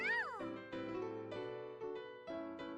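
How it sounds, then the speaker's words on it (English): A cat in a video game gives one clear, rising-and-falling meow at the start, followed by sustained, tonal game music. "At my feet, the cat meows proudly."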